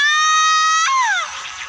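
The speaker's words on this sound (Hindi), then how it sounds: "तभी उसे किन की चीख सुनाई दी" A single shrill scream in a spooky horror tale rings out loud and sustained, then cracks and trails off into a falling wail with a breathy, noisy tail.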